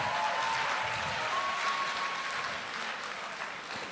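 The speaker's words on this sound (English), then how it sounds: "A round of applause to Forest Lab." A crowd at a tech fair claps steadily and continuously, a dense wash of applause that fades slightly toward the end.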